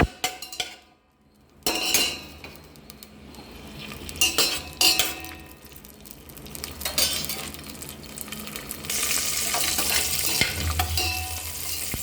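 Cashew nuts frying in hot ghee in a heavy pan give a bright, steady sizzle, broken by clinks and scrapes of a metal spoon against the pan and a brief near-silent gap early on.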